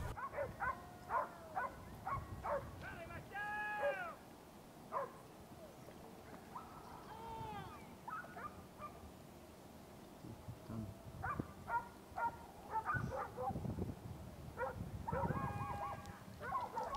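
Hunting dogs bark and yip in the distance during a boar hunt in rocky Spanish backcountry, scattered bursts of howling barks trailing off and returning over faint background noise, with some talk mixed in.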